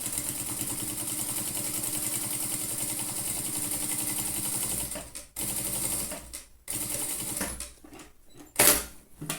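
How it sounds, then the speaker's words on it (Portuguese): A sewing machine stitching the zipper seam of a fabric pencil case, running in fast, rapid mechanical bursts with a few short pauses and stops toward the end, loud and close, no talking. "E vamos costurar, escondendo essa costurinha do zíper, pra ela não ficar aparecendo."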